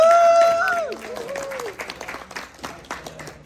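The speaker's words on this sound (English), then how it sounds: "Ladies and gentlemen, give yourselves a round of applause before you clap for anybody else." A crowd at a live mullet championship event in Tunica, Mississippi bursts into applause, loud at first and then thinning into scattered claps, with voices calling out over the start.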